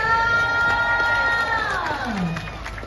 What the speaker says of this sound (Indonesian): saya pengen dengar dulu mana tepuk tangannya dulu dong